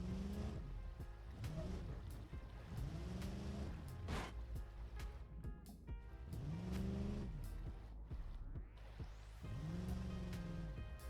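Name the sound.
1979 Ramcharger driving off-road in video game BeamNG Drive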